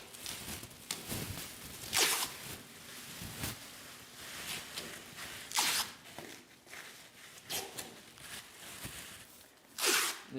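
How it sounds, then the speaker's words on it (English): Plastic bag being worked over a truck's steering wheel during masking for paint, giving repeated loud crinkling and rustling bursts at irregular intervals with softer handling noise between, no talk. "This is the sound of me bagging the steering wheel."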